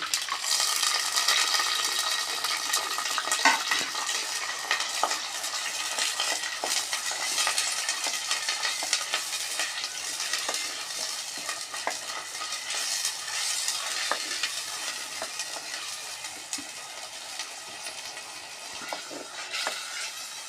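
A curry of small fish cooks with tomatoes in a pan, giving a steady close sizzle of frying while a spoon stirs and scrapes against the metal, with occasional light clinks and no talking.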